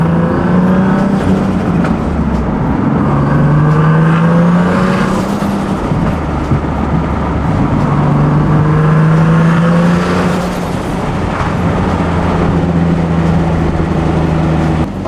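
A Z car driving with its engine rising and falling through several revving pulls and gear changes, loud and close as if heard from inside, with no talking.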